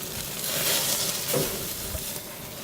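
Prime rib searing on a grill during a reverse sear, a close, dense hiss and crackle of fat that swells and fades slightly over a few seconds.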